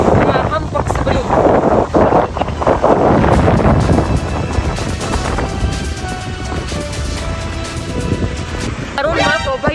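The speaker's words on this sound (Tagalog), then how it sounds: "makita nato karon sa akong palibot ang pila ka kusog nga hangin sa amihan" Strong northeast monsoon wind batters the microphone on an island barangay near crashing waves, a loud continuous roar and buffeting, with a voice talking over it.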